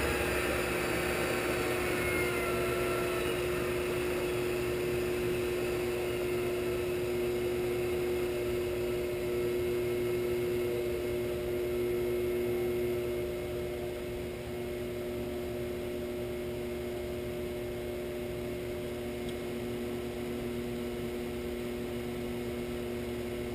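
A Leeson 3/4 HP DC motor drives a Shopsmith 10ER woodworking machine, giving a steady, even electric hum with a constant pitch that runs throughout and eases slightly in level partway through.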